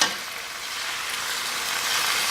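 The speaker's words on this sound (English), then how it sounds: "You can hear it, they're all sizzling, single layer." Chicken tenderloins sizzle in a single layer in hot sesame oil in a pan, a steady close hiss of frying with no voices.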